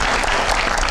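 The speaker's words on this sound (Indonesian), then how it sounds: "Kita berikan tepuk tangan yang luar biasa." Audience applause in a television studio, a steady dense wash of clapping that fills the whole moment with no voices over it.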